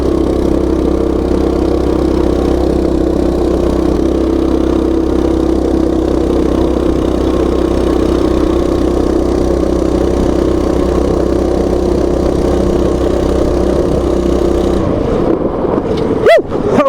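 Coleman mini bike engine fitted with a stage 1 torque converter runs steadily at close range with a droning, constant note, then cuts off abruptly near the end with a brief clatter.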